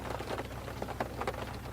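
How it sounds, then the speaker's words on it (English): Steady rain falls outside a truck parked at a gravel campsite, a continuous dense patter of drops close by with no talking, coming down fairly hard. "Ah, it's raining out there."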